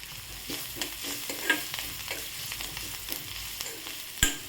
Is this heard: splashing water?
no